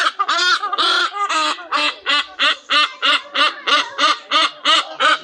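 A parrot at Parrot Mountain in Pigeon Forge, Tennessee, squawking loudly and close in a long, steady series of about fifteen harsh, rhythmic calls, alone with no talk.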